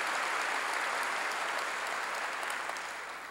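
A congregation applauding during a church sermon, a steady even wash of clapping for a few seconds, moderately distant and gently tapering off.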